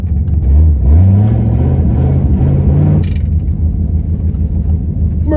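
An old 1962 Mercury car engine turns over and revs up loud and close, its pitch rising and falling before settling into a rough, rumbling idle.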